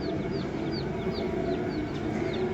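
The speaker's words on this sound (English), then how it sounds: "Oh, we got baby chicks." Baby chicks in a brooder peep with repeated short, high chirps over a steady low hum and background noise, fairly close and continuous.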